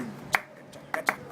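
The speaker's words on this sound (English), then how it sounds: "There's a typical Punjabi rhythm called dhol. Could you clap it?" A few sharp hand claps or snaps tapping out a Punjabi dhol rhythm: one crisp hit, a pause, then two quick hits close together, near and dry in a quiet room.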